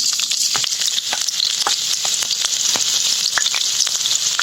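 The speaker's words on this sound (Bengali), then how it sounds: "তেলটা গরম করে নিলাম জিরে ফোড়ন দিয়ে দিই হাতে দিলাম তেজপাতা ফোড়ন পেঁয়াজ এবং রসুন বাটা দিয়ে দিলাম" Cumin, bay leaf, onion and garlic paste frying in hot oil, a loud continuous sizzle close up with occasional sharp pops and stirring scrapes, no talking.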